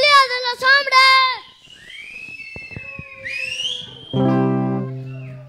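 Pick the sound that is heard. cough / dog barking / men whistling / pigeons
men whistling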